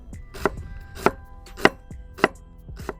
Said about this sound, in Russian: Тоненько нашинкую красный лук полукольцами.